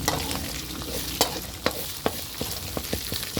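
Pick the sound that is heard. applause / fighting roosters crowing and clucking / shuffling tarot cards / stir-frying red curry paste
stir-frying red curry paste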